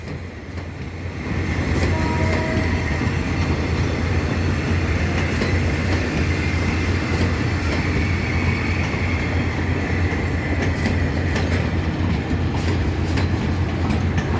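Thai special train 945 rolling through a right-hand turn on the rails, a loud steady rumble of wheels and carriages swelling in after a second and holding close throughout.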